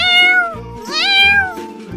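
Kittens in an animated cartoon give two clear, high, drawn-out meows in quick succession, loud and close with nothing else over them.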